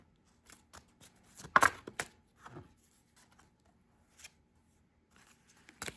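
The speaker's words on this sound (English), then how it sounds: "Those are sequential, so I'm going to keep shuffling." Tarot cards being shuffled by hand, producing sporadic soft riffles and taps, with one louder burst of card flicks near the start and quiet gaps between bursts.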